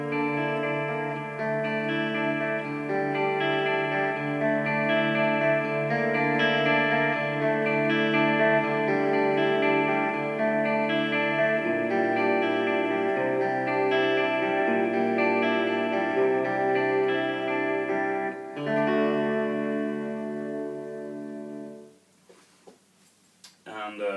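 Clean electric guitar playing shimmering chords with heavy chorus and a trailing delay, sustained and steady, fading out near the end.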